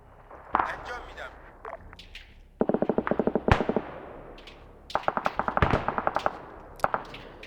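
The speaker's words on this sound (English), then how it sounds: "You guys ever seen a bomb hit a squad of infantry?" Rapid bursts of gunfire and sharp explosive cracks crackle through a military video game battle, with quick rattling volleys and a heavy blast, while voices call out briefly between them.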